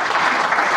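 Dense, continuous applause from a political rally crowd in Kharkhoda, Sonipat, a steady wash of many hands clapping at once with no break.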